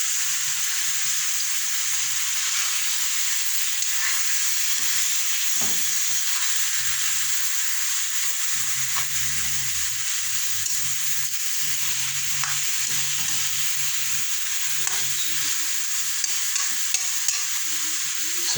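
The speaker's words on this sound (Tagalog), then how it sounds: "Sangkutsahin ko muna yung panyero bago ko lagyan ng toyo. Para bang piprituhin konti." Chicken for adobo sautés in a pan with pepper, giving a steady loud sizzle and hiss throughout, with occasional soft scrapes and stirring clatter underneath.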